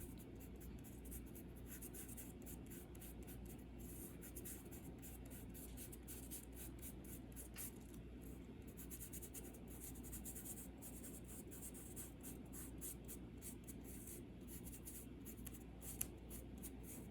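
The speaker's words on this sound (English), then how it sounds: "Then we use our finger to rub the pastel over" A finger rubs pastel across paper in a soft, steady, faint scratchy rub that continues evenly without pause.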